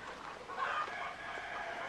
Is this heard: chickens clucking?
yes